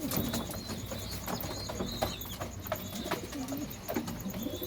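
Breeding pigeons eating scattered wheat coo softly and repeatedly at close range, with faint pecking and shuffling and an occasional wing flutter; no talking.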